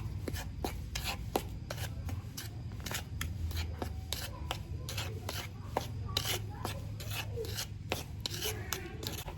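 Eggless, milk-free waffle batter is stirred in a bowl with a utensil, producing quick, repeated scraping and tapping strokes in an irregular but constant rhythm, close and fairly quiet, with no one speaking.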